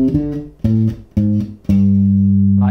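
Two joined bass line phrases on an electric bass guitar: four plucked notes with steady spacing, the final note sustained, played up close and alone.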